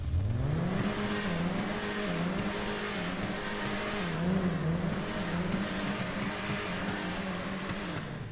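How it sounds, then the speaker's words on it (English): A Nissan GT-R's sports exhaust revs loudly and close by, its engine note rising and falling steadily for several seconds with no talking. "Let y'all hear this exhaust,"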